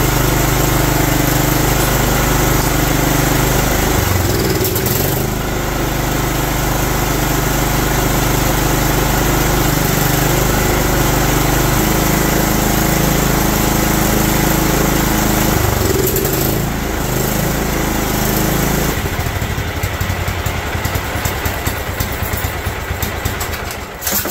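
A John Deere LT160 automatic lawn tractor's small engine runs continuously, loud and close, with a steady droning idle that shifts in pitch a few times and turns rougher near the end.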